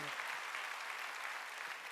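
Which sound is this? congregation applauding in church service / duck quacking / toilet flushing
congregation applauding in church service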